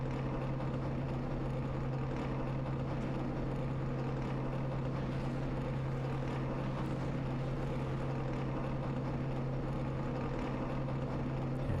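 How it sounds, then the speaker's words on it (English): Cup Series stock car engines idle before the 2005 Banquet 400, a steady deep droning rumble heard from a distance and unchanging throughout. "Here's the engine's already fired up, ready to go"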